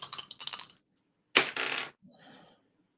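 Tabletop dice rattle and clatter across a table, with a quick run of clicks, a sharper tumbling burst, then fainter settling taps.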